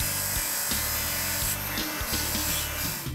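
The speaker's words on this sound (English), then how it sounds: "We got a coarse belt installed. We're going to go ahead and turn the machine on." Work Sharp belt sharpener running a coarse belt to grind down the tip of a broken knife, giving a loud continuous motor whine and abrasive hiss with short grinding surges as the blade is pressed and lifted.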